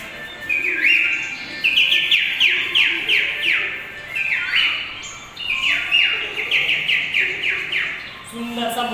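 A performer at a children's entertainment event imitates a peacock with his voice. Repeated rising and falling whistle-like calls come in bursts, loud and close, with short pauses between the bursts.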